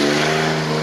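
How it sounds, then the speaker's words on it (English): A truck engine roars loud and close in a brief, sustained rev, with a strong steady drone and no voices over it. "Nobody cares about your loud ass truck"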